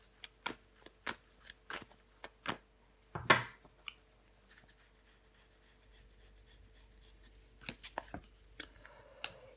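Tarot cards are shuffled and laid out on a surface, giving soft, close snaps and flicks in an irregular rhythm. A brief rustling swipe comes in the middle, then more quiet card taps follow.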